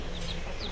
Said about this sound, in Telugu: ఫ్రెండ్స్, ఇవి మా కోడి పిల్లలు.